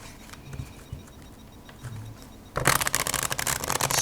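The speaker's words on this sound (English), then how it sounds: "shuffling is fantastic with this deck" A Bicycle Pro PokerPeek deck of playing cards is shuffled close by, starting with a few soft handling taps, then a dense burst of crisp riffling flutter for the last second and a half, with no voices.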